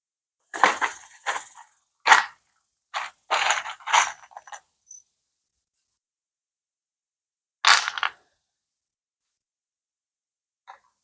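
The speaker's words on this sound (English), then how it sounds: "I just slide the shelf in and align it with those marks" A scrap wood shelf is slid into place and aligned with marks, giving several short, close scraping and knocking bursts. A pause follows, then one more slide and a faint final tap.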